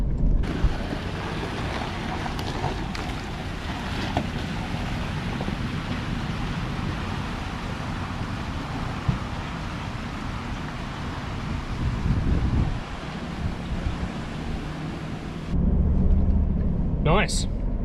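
A 4x4 in second gear low range crawls slowly through a water crossing during the wet season in Western Australia, giving a continuous, rough wash of sloshing water, engine hum and wind buffeting, with a brief voice near the end.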